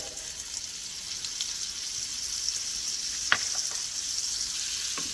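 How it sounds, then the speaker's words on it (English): Olive oil and salted butter sizzle steadily in a hot skillet over a medium flame, a constant close crackling hiss with a few brief sharper pops and no voices. "I have a hot skillet. It's on a medium flame. I'm adding 2 tablespoons of olive oil. This is 4 tablespoons of salted butter."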